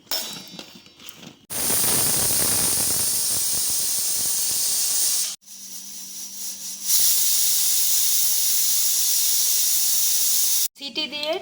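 Pressure cooker cooking dal lets off steam in long, loud, continuous hissing bursts broken by brief pauses, close and dominant with no other sounds.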